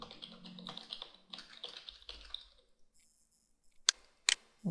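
Fingers typing on a computer keyboard in bursts of quick, close, faint key taps during the first seconds, then near silence broken by a few sharp isolated clicks.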